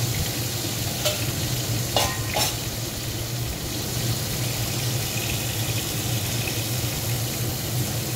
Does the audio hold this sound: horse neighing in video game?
no